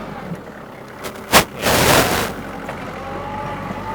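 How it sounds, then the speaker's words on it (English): A truck's Jake brake on a busy rural road, a sharp crack followed by a rough, rumbling engine-brake blat lasting about a second, heard from a moderate distance over quiet background. "So we kind of get used to Jake brakes."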